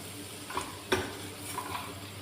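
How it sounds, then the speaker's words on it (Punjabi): Spices for a milk curry roasting in a pan over low gas make a faint, steady hiss, broken by two or three soft stirring scrapes, heard close with no voices. "ਇਹਨੂੰ ਕੁਝ ਮਿੰਟਾਂ ਲਈ ਆਪਾਂ ਭੁੰਨ ਲਾਂਗੇ ਚੰਗੀ ਤਰ੍ਹਾਂ ਮਸਾਲਿਆਂ ਨੂੰ"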